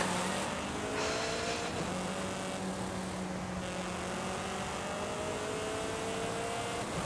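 A Ford Transit Van racing in Forza Horizon, its engine holding a steady loud drone with slowly climbing pitch under a wash of road and wind noise, with no talk.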